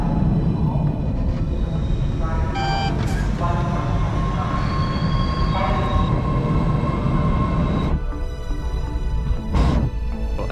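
A subway train rumbles loudly through a dark station in Cambridge, Massachusetts, with metallic squeals and brief high tones over a constant heavy roar that eases near the end.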